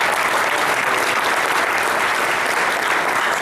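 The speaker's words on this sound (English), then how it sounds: "Let's give them a round of applause." An audience at an evening meeting gives a loud, dense round of applause, steady close clapping with a faint crowd murmur underneath.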